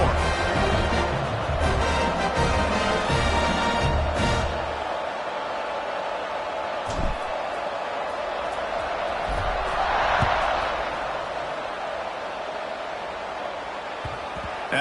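A stadium crowd buzzes at a TCU at Arizona State college football game. The broad roar stays steady throughout, and a commentator talks faintly over it.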